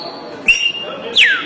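A person whistles an imitation of the pássaro preto, a blackbird of the Brazilian cerrado. Two short, close, loud whistled calls: a steady high note, then a sharp downward-sliding note.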